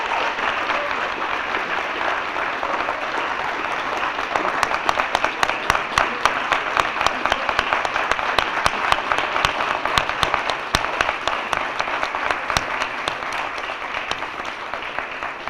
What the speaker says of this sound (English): Let's give one more round of applause for our 7 graduates that are listed.